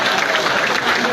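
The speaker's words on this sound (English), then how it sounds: "please give a mighty hand of applause to Dr." A crowd at a political endorsement rally for a presidential bid applauds Dr. Toga Gayewea McIntosh, a dense, loud and steady wash of close clapping throughout.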